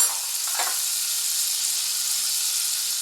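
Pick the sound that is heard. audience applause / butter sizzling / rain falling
butter sizzling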